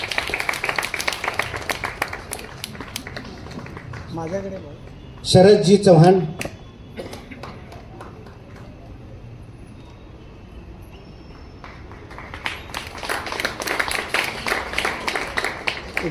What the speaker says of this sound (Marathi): टाळ्यांचा गजर चालू राहू दे